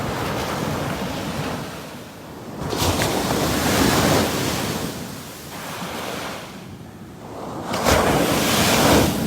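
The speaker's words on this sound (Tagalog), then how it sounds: "Ingani ka kusog ang mga balon inig kaadlawon." Strong ocean waves surge and break on a beach at dawn, a loud continuous roar that swells and recedes in broad washes, with wind buffeting the microphone.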